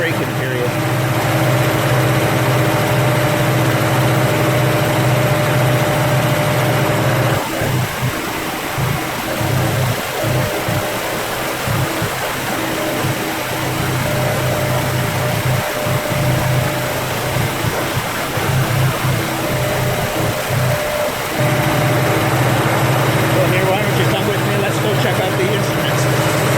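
An engine idles steadily at 1800 RPM through its break-in run, a constant loud drone with a low hum, while people talk intermittently over it in the middle stretch.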